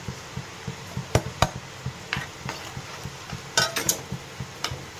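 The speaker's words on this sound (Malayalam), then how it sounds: "ഒന്ന് ഇളക്കി കൊടുക്കാം." A spoon stirring taro stem and dried fish curry in a pot, with scattered metallic clinks and scrapes against the vessel over a soft, low background.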